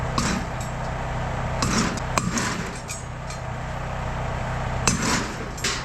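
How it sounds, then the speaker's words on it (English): A sledgehammer strikes an argon tank in a burned-out shop, sending out a few sharp metallic clanks and ringing hits spread over a steady low background hum. "well, I smacked it with the sledgehammer."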